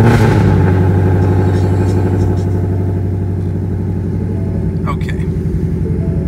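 A 2018-19 Ford Mustang GT V8 fitted with headers rumbles loudly at close range, a dense, steady low throb with brief revving swells and a short pop near the end.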